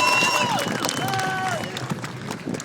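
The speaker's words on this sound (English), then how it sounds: "Let's have a big round of applause" Crowd at an outdoor protest rally breaks into applause and cheering, a continuous clatter of clapping with shouts and whistles, gradually thinning out.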